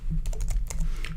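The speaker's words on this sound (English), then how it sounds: "I cannot type and talk today" Rapid, close keystrokes clatter on a computer keyboard in an irregular burst of separate clicks, with no voice over them.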